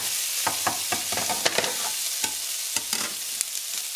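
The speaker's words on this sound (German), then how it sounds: "Dann hole ich mir meine eben geschnittenen Zwiebeln und schmeiße die einfach in die Pfanne, in der ich gerade die Krakauer angebraten habe." Chopped onions hit a hot pan where Krakauer sausages were just browned, sizzling steadily with frequent sharp crackles and spatters, close and loud, with no talk.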